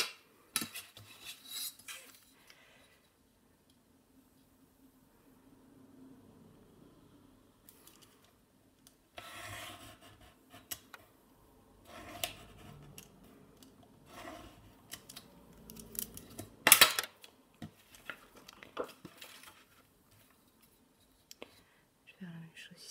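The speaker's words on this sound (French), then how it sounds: "et ici je vais venir découper l'excédent de papier" Paper trimmed with a blade run along a ruler while making a scrapbook album structure, giving scattered faint scraping and cutting strokes with one sharp louder slice, amid soft handling noises and quiet low speech.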